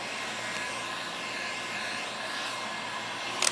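A heat gun blows steadily on vinyl wrap over the trunk of an Elantra N, a continuous airy whirring drone at even loudness with a faint rustle at the very end.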